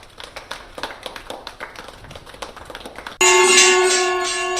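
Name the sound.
hand clapping outside a house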